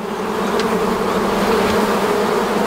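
Honey bees drone steadily over frames of newly drawn wax comb in a split hive, a dense continuous buzz held close and even throughout with no voices.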